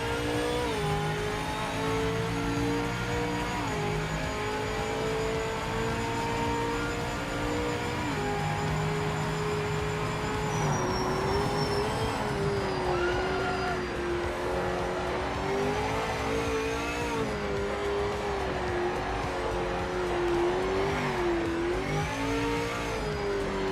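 Race car engine in Project Motor Racing with an H-pattern gearbox, a loud continuous engine drone that rises and falls through gear changes and downshifts, alone without talk.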